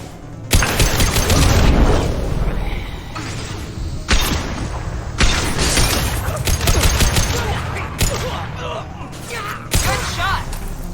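Bursts of automatic gunfire and explosive booms ring out in a Mass Effect Legendary Edition firefight, loud and nearly continuous with brief gaps, while voices speak over the shooting.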